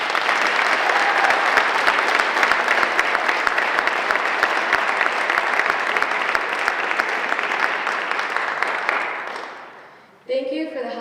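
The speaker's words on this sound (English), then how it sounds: "Please give a round of applause for our graduating seniors" A high school National Honor Society audience applauds graduating seniors with steady, dense clapping that lasts about ten seconds before fading out, and a voice starts speaking at the end.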